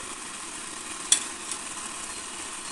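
Green chili paste and chili powder fry in a pan with a quiet, even sizzle and one brief utensil tap.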